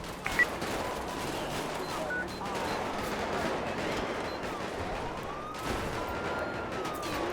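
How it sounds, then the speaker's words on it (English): Gunfire in a GTA 5 LSPDFR police session, with repeated sharp shots scattered over a wailing police siren and general game noise, fairly dense and mid-distance with no clear voices. "Dispatch, shots fired, shots fired."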